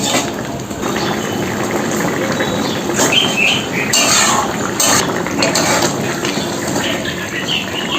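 A vegetarian curry gravy boils in a pot, a steady close bubbling and hiss with a few faint clinks and no talk.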